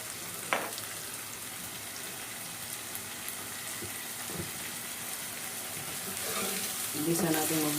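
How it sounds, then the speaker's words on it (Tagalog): Mung beans, sardines and fish bagoong sautéing in a pan, a steady close sizzle with a few sharp clinks of a utensil and stirring that grows louder near the end. "Igisa natin mabuti"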